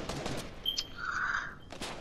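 Gunfire in Fortnite: a quick burst of shots at the start, then a short ringing tone and another burst near the end, loud against game ambience.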